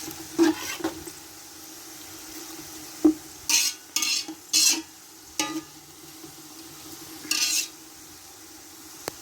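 Garlic frying in a pan for chicken rice, with a soft sizzle under several bursts of spoon scraping and clanking against the pan as it is stirred, close, no talking.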